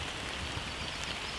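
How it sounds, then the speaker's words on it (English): Rain falls outdoors in a steady, soft hiss of many fine drops, faint and even throughout with no voices. "the rain is rolling in definitely"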